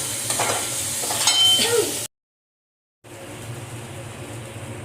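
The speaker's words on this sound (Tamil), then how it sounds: "வெங்காயம் கொஞ்சம் நல்லா வதங்கட்டும்" Onions sautéing in a pan with a little salt, a close sizzle with stirring scrapes, cut by a second of silence before the quieter frying resumes.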